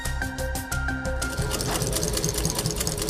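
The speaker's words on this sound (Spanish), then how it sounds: "Una máquina de coser, tijeras, hilos, cuero son las herramientas de trabajo de Juan Carlos Hernández Dubón" A sewing machine used for stitching leather runs in quick rhythmic bursts of needle clatter, close and steady, with no voices.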